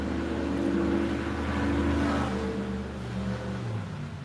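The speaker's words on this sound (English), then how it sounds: "I'll wait for these loud mountain trucks to go by for a second here." Loud mountain trucks rumble past outside a window, engines droning low and heavy with a rising rev before easing off, sustained throughout and fairly close.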